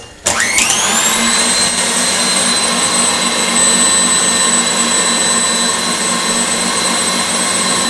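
An electric mixer whisks egg whites and sugar on high for a Baked Alaska meringue, starting up with a rising whine and then holding a loud, steady, close motor drone throughout, alone without talk.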